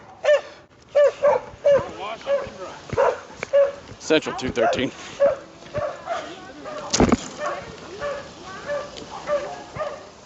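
A police sniffer dog near a patrol car lets out a few short barks and yips among frequent talking and radio chatter.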